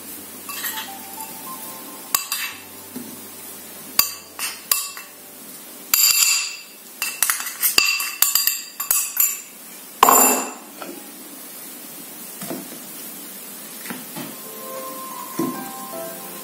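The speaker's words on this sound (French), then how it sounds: "Je mélange donc un peu notre marinade. J'ajoute donc nos épices à l'intérieur." Spoon clinks and taps against a bowl while an African spice marinade is mixed, irregular close knocks and scrapes with short bursts of stirring and brief pauses between.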